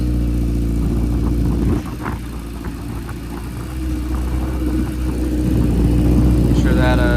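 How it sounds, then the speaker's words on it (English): Race car engines warm up at a speedway, a loud, close low rumble with harmonic drone that idles, then picks up in revs over the final seconds while a voice talks over it. "A little bit of heat in the engines."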